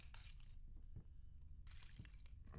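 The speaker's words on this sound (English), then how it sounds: "There's a lot of broken glass around here" Broken glass crunching in the horror game Layers of Fear: short, gritty crunches near the start and again near the end, heard over a steady low ambient rumble.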